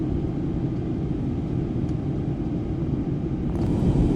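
Lion Air passenger jet descending at night toward Makassar, a steady loud low cabin roar of engines and airflow continuing unbroken, with a faint click near the end and no speech.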